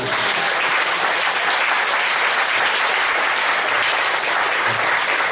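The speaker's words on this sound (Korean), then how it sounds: "나와 여기 박수를 한번" A church congregation breaks into loud, dense applause that runs steadily throughout without pause.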